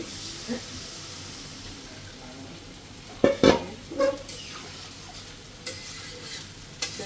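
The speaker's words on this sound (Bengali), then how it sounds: "তো এখন আমি জল দিয়ে দিচ্ছি" Water goes into a jatka fish curry in a hot pan. A low background sizzle gives way to a sudden loud hissing splash partway through, followed by a few smaller bubbling pops.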